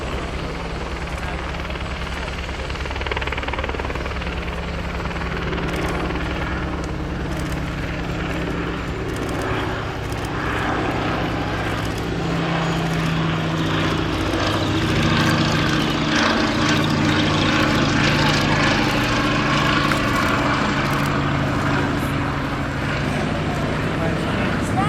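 A Blackburn-built Fairey Swordfish biplane flies past at the East Fortune air show, its steady droning engine loud and sustained throughout while a commentator speaks over it.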